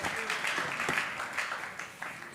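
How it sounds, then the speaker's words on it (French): An audience applauds the archbishop after his presentation to young Congolese people, a steady wash of many hands clapping at moderate distance, continuous throughout with a few louder claps. "Continuons d'acclamer pour l'archevêque Ejiba Mapia pour sa présentation."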